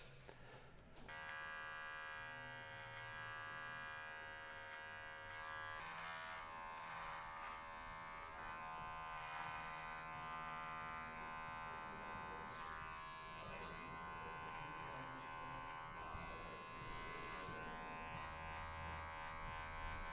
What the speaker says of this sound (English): I've done my trimming coming up to the cheek line with my clipper over comb.